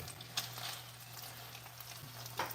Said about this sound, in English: Let's set them in and should hear a sizzle.